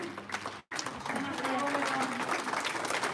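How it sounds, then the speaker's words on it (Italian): Applause breaks out at an Italian teacher programme session at CERN in Geneva, a dense steady clapping that fills the room after a brief dropout, with voices mixed in. "applauso"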